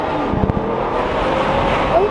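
A car with a full titanium Rift exhaust drives hard, giving a loud, steady engine roar and broadband rush with brief thumps near the start.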